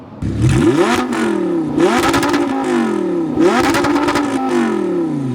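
An Audi R8 V10 Spyder revs hard three times, each burst climbing and then settling, with loud, raspy exhaust close to the listener.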